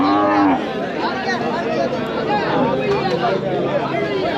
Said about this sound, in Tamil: இன்னும் அந்த பக்கம் நிறைய மாடுங்க இருக்குது